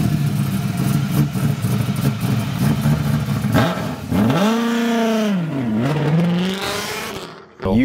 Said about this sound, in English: it definitely makes up for it when you start the car.